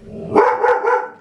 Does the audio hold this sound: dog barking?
yes